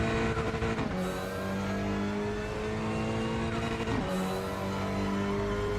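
A race car engine in RaceRoom Racing Experience screams at high revs, with two quick upshifts a few seconds apart, each dropping the pitch before it climbs again, loud and steady throughout.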